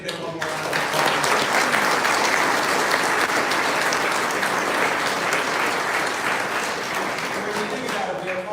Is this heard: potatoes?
no